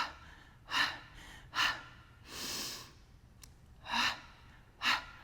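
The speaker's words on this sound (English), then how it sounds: "Inhale long." Breaths during a Pilates mat workout come close and audible, several sharp inhales and exhales in a rhythmic pattern, with one longer, softer inhale in the middle.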